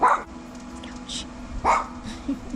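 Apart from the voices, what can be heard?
dog barking, chasing the pool cleaner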